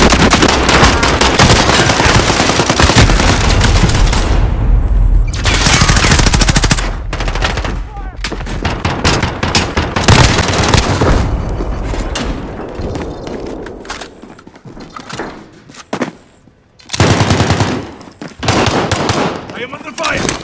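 Gunfire rattles through a Call of Duty Modern Warfare match, loud machine-gun bursts and rapid shots nearly continuous, broken by brief lulls and a sudden drop near the end, with players talking over it.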